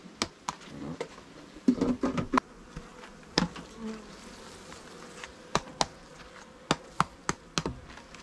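Honey bees buzz around frames during a honey harvest, faint fly-bys drifting close and away amid sharp intermittent taps and knocks, no talking.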